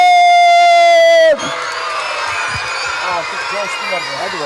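Children cheer and applaud at a primary school event: a steady sustained tone cuts off abruptly, then a loud, continuous wash of young voices whooping and clapping fills the room.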